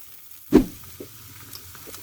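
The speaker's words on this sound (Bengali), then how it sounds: "পেঁয়াজ আর মরিচ ভাজা হয়ে গেছে, এখন আমি কুমড়া দিয়ে দিচ্ছি" Pieces of pumpkin drop into a pan of fried onions and chilies with a single loud thump. A low, quiet sizzle carries on after it.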